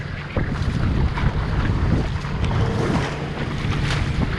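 A Hobie Cat 14 sailboat out racing, crew trapezing off the side, with strong steady wind roaring across the microphone and water rushing and slapping against the hulls, loud and continuous throughout.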